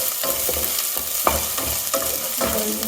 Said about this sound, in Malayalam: അതിലേക്ക് നമുക്ക് ഈ ഇഞ്ചി ചതച്ച് വെച്ചത് ഇട്ട് കൊടുക്കാം.